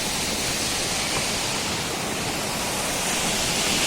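Steady, dense roar of rushing water from the Gitgit waterfall in Bali, a broad continuous wash that holds at an even level throughout with no voices.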